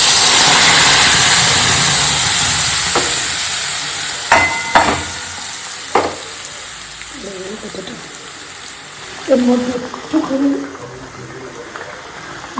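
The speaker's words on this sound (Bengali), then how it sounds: "একটু চিরবির করে উঠবে এবার মশলাটা দিয়ে দিই" Spices hitting hot oil in a kadai, a loud dense sizzle at first that fades, followed by scattered clanks of a utensil and brief talk near the end.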